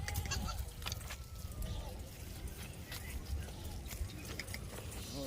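Several Barbari goats bleat at a crowded outdoor goat market, repeated calls rising over constant chatter and the general bustle of the livestock trading ground.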